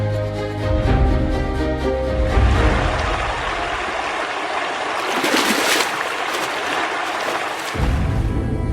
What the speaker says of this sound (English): the faint sound of rippling water